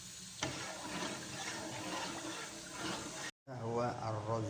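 Water pours into a pot of Hadhrami rice on the stove, a steady splashing rush under a person talking, with a brief cutout before the pouring and chatter resume.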